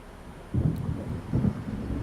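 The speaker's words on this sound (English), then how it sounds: "It seems there's a storm coming." Thunder from an approaching storm rolls through the Alan Wake game world, two low, heavy rumbles about a second apart over steady wind-like background noise.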